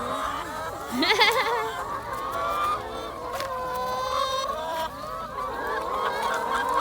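Loud honking and squawking calls from laying hens on a farm, several birds close by, with a busy mix of overlapping cries throughout.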